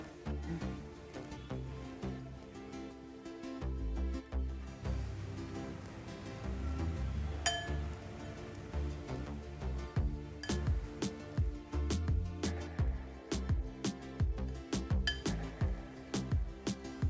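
Radish salad being mixed in a bowl with chopped tomato, coriander and crushed peanut powder, giving a run of quick light clinks and taps from a spoon that grow busier toward the end, close and fairly loud, no voices.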